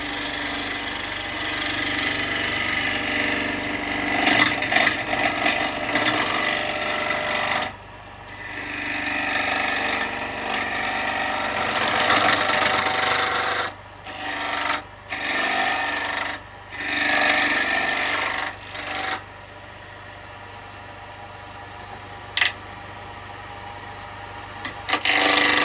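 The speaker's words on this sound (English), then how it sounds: "It's going to clonk a bit because I've got those knots there" A wooden bowl turning on a lathe with a carbide chisel, giving loud continuous rasping and scraping with rough clonking bursts where the tool passes through knots, broken by several short pauses and ending with a few lighter cuts.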